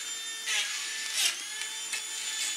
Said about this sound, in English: The track cleaning car seems to be finally working.